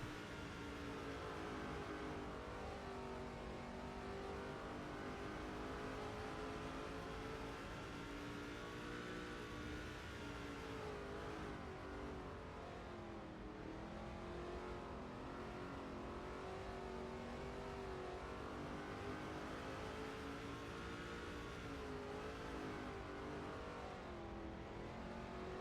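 Race car engine in the NASCAR 07 video game on PS2, a steady loud roar with rising and falling pitch as the car sweeps through laps, no voices.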